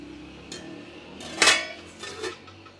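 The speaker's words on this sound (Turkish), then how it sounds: "Ocağı alıyoruz ve daha hızlı kaynaması için kapağını kapatıyoruz" A metallic clank as a lid is set on a pot of pasta water on the stove, with a few lighter clinks before and after in a quiet kitchen.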